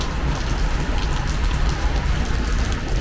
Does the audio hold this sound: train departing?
no